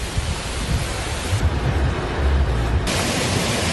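Heavy continuous rain pours during flooding in the Philippines, a dense, loud, steady roar of rainfall with a deep rumbling undertone and no break.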